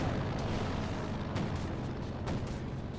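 A flak gun in Company of Heroes 2 firing at an air reconnaissance plane, a steady roaring barrage with repeated booming thumps over a dense battle din, loud and continuous.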